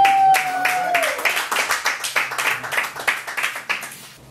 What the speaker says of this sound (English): Please now clap the stage priest.